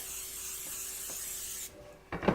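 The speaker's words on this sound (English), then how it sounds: "we're going to spray the pan. Okay. With some nonstick spray there." Nonstick cooking spray hissing onto a 9x13 baking pan, a soft continuous spray for about a second and a half, followed by a couple of faint clatters.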